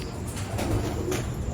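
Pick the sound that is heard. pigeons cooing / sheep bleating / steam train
pigeons cooing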